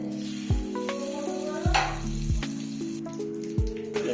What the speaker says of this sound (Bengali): আমি এখানে বাটার দিয়ে দিলাম কড়াটা একটু গরম হয়ে যাওয়ার পরই।